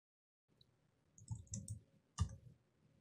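A few sparse key clicks on a computer keyboard while typing a Linux mount command, quiet and close, in short bursts with pauses.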